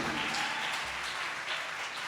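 Congregation applauding during a Spanish-language family church service, a steady broadband patter of many hands sustained throughout at moderate, somewhat distant level, with no speech over it.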